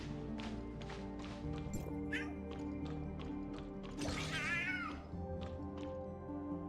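Cat meows sound in the Tower of Fantasy video game, a few short mewing calls standing out over game music, with a louder drawn-out caterwaul near the end.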